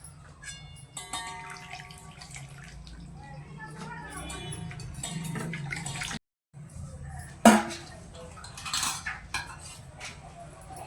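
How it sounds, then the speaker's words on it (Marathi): Amaranth greens are washed in water in a metal pot, with clattering, sloshing and clinking, a brief silent gap midway, then a sharp splash and more rattling, with some voice underneath. "चांगली स्वच्छ धुवून घ्यायची."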